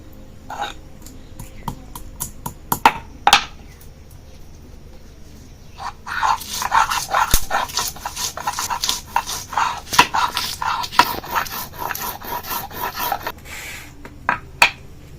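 Green chili and ginger ground together on a grinding stone, a steady rough rasping and scraping that builds from scattered strokes into a dense, continuous grind through the middle, then eases back to a few scrapes.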